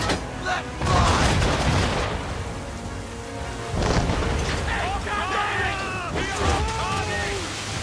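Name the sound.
ship cannons firing in video game Assassin's Creed III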